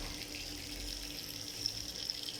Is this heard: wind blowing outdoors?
no